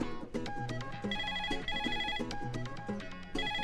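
A phone rings with a melodic ringtone, a repeating chime-like tune playing steadily and clearly at moderate volume with no talk over it.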